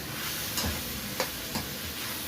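Liver frying in a pan and stirred on its own, a steady low sizzle with a few soft scraping strokes of the spoon at a close distance.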